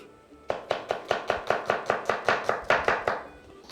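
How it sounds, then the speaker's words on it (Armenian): Onion is finely chopped on a board for fish meatballs in a home kitchen: about fourteen crisp, evenly spaced knife chops ring out close and loud, with no talking. "Խնդրում եմ օգնեք ինձ, մի քիչ սոխ կտրատեք։"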